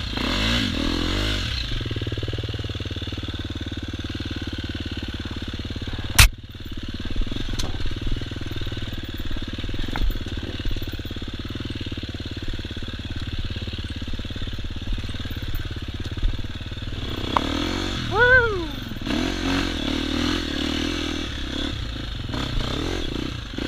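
A 2016 KTM 250XCF dirt bike engine runs steadily throughout, a near, continuous mid-pitched drone with a brief rev or clatter around the middle and a rising whine near the end.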